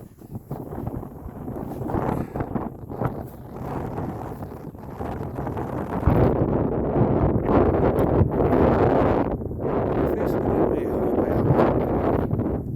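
Strong wind buffets the microphone on a golf course, a loud, rough, continuous rumble that surges and eases in gusts throughout.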